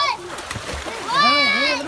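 Children splash and play in water pouring from a village tube well, with bright splatters under excited young voices and shouts rising louder toward the end.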